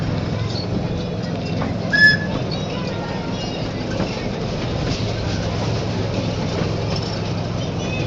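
Trains, including a steam locomotive, idle at a busy railway station, giving a continuous low mechanical rumble with a brief whistle-like tone and faint clanks, while voices murmur in the background.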